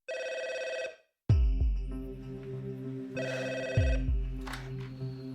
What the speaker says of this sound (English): The phone rang and I answered it